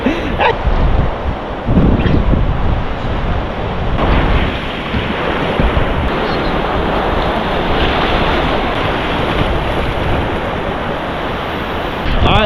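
At a beach on a moderately windy day, surf rolls in with a continuous wash while wind buffets the microphone in heavy gusts, loudest near the start and around four seconds.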